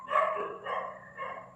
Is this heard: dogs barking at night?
yes